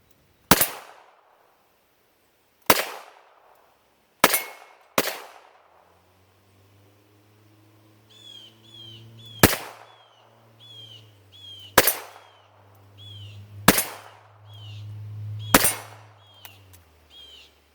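Revolver shots fired from a barricade, with the front of the frame braced against cover: eight sharp, loud reports spaced a second or two apart, ringing briefly, with a low rumble and faint chirps in the background between later shots.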